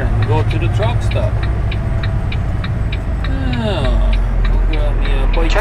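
A semi truck engine rumbles steadily and loudly while the rig pulls into a truck stop in the Rocky Mountains, with a low drone throughout, clicking of a turn signal, and a person talking over it.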